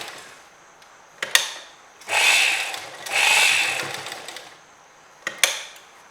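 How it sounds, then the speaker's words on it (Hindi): A sewing machine stitching the collar of a gown runs in two slow, steady bursts, each lasting about a second, separated by sharp clicks and handling knocks in a quiet room. "हर गोलाई वाली जगह पर आप मशीन धीरे धीरे चलाइए।"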